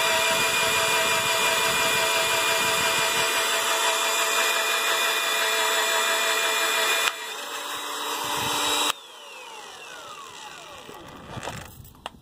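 A power drill runs a regular twist drill bit through oily metal during work on moving a vehicle axle, whining steadily and loudly, then dropping in pitch and winding down near the end.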